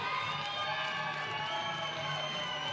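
Oklahoma State Cowgirls softball fans at a college game against Baylor cheer an out, a steady crowd roar and shouting held at an even level throughout.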